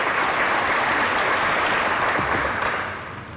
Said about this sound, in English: How about another round of applause for all these wonderful ladies and gentlemen?